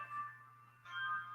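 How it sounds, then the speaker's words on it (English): A mobile phone ringtone plays quietly nearby, a sustained electronic tone sounding in two phrases with a short dip between them, over a low steady hum and no talking. "And why is my phone going off?"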